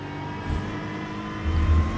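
A Ford Mustang GT3 race car engine in iRacing drones steadily with a low, throaty tone, swelling briefly twice as the revs rise, with no talking.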